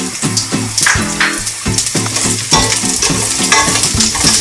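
Garlic sautés in hot oil in a cooking pot, loud close sizzling with repeated spatula scrapes and knocks against the pot in a quick, uneven rhythm.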